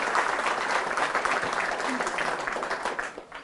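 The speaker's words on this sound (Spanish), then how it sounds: "Fuertes aplausos al Rey de Reyes y Señor de Señores, a Jesús de Nazaret." A church congregation applauds loudly and steadily during a Spanish-language sermon, a dense wash of clapping that holds for a few seconds before thinning out at the end.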